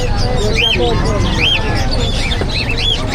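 Dense chicken chatter and chirping calls fill a noisy poultry market in Bocaue, Bulacan, with crowd babble throughout and repeated sharp calls rising above it.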